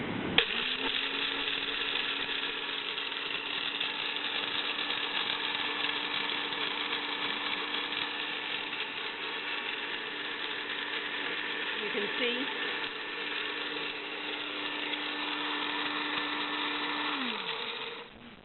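An electric grain grinder mills grain into flour inside a cup, giving a steady, loud motor whine with a constant pitch that runs unbroken for about seventeen seconds, then spins down and stops near the end.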